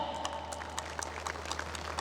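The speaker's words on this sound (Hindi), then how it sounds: "कृपया तालियों के साथ उनका उत्साहवर्धन करें" Applause from an audience at a school annual function, a steady patter of many hands clapping at moderate distance, fairly soft and even throughout with a low hum underneath.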